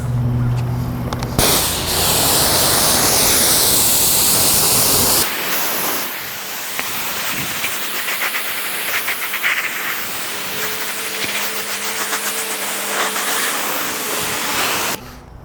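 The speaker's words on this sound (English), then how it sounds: "Let's go ahead and rinse her off." A pressure washer rinses an SRT Viper, giving a loud, close, continuous hiss of water spray. The hiss shifts in tone as the jet moves across the car's body.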